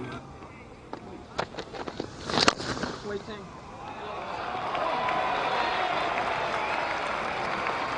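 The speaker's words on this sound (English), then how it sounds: "Huge cheer from the grass bank at the far end of the ground" At a New Zealand versus England cricket Test, a crowd on a grass bank at the far end of the ground cheers a catch. A few scattered claps and shouts swell into sustained, distant cheering and applause.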